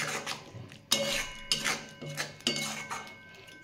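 Raw mango laddu mixture with sugar and chilli powder stirred in a pan over a gas flame, a spoon scraping and clinking against the metal in repeated strokes, moderately close with no talking.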